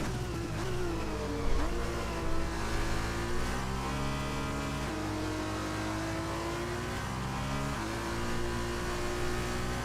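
An F2 race car engine in F1 2021 at Silverstone, a steady high-pitched whine with rising and falling revs and gear shifts, heard alone at moderate volume as the car rounds corners.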